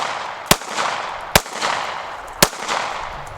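A handgun fires three sharp shots spaced about a second apart, each a loud crack over steady outdoor background noise.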